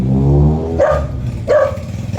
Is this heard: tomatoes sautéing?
no